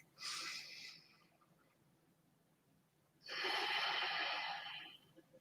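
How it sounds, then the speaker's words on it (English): Two slow, deep breaths during a yoga session, an inhale and then a longer exhale, soft and close with a quiet pause between them. "Take a deep breath in and a deep breath out."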